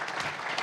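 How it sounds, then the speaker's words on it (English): Audience at a nicotine policy forum applauds after a panel session, a dense, steady clapping from many hands filling the room without voices. "please give everyone who contributed a round of applause"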